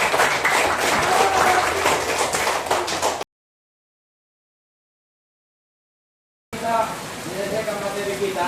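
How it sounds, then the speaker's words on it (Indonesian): Classroom applause from pupils during an Indonesian school lesson, a dense patter of many hands clapping for about three seconds, then a silent gap, then more scattered clapping with children's voices mixed in. "Tepuk tangan sama Alika dulu."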